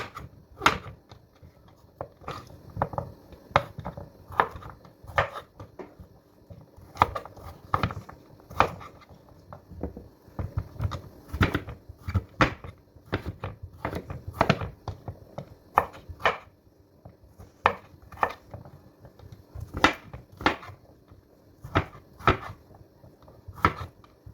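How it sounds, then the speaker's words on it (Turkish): Knife chopping food into cubes on a cutting board in a home kitchen, a steady series of sharp, close knocks in uneven bursts, with occasional pauses and no talking. "Böyle kubik-kubik doğrayıram."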